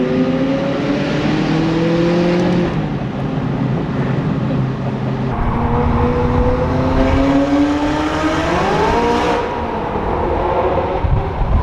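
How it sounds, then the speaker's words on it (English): A McLaren 570S supercar drives along with a loud, continuous engine drone heard from inside or close by, its pitch climbing and shifting through gear changes over roughly twelve seconds under steady road noise. "We are successfully driving a 570S McLaren"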